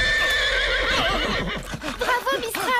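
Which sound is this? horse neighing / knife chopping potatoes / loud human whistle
horse neighing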